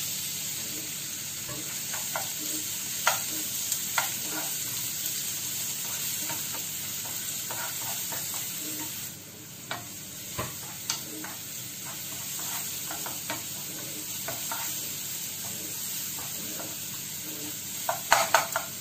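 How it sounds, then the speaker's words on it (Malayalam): Crushed garlic and green chillies sizzle in hot olive oil while being stirred for a lemon peel pickle, a steady frying hiss with scattered spoon clicks against the pan, no talking. "ചൂടായ ശേഷം ആ വെളുത്തുള്ളിയും പച്ചമുളകും കൂടെ ചതച്ചത് ആദ്യം നമുക്കൊന്ന് ഇട്ട് കൊടുക്കാം."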